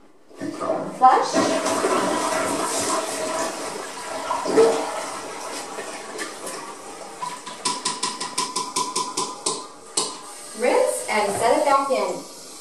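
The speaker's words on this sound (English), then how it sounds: "Flush." A household toilet flushes after being scrubbed with a Norwex brush, a loud rushing swirl of water that fills most of the stretch before trailing off into gurgles and refilling, with a voice speaking over it at points.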